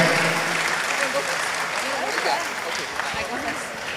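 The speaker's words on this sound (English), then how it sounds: "Let us give her a round of applause in encouragement." A crowd applauds steadily at a fundraising dinner, clapping spread across the room without pause, with voices mixed faintly into the noise.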